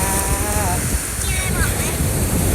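Surf washes steadily onto Sai Kaew beach in Sattahip as a continuous loud rush of breaking water and wind, with voices talking over it.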